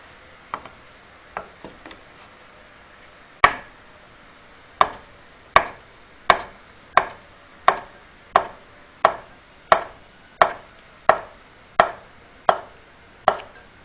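A knife thinly slices tofu on a cutting board for doenjang stew: a few light, uneven taps, then a long, steady run of crisp knocks against the board at an even pace, close and clear.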